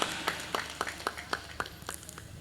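Sparse rhythmic clapping at an Indonesian ceremony welcoming a Banyumasan dance, about nine even claps in a quiet, somewhat distant room.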